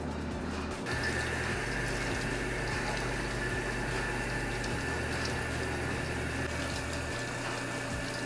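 Water poured slowly over an RC car to wet it for cleaning, a steady continuous splashing and trickling wash lasting several seconds, close and fairly quiet with a low hum beneath, no talking.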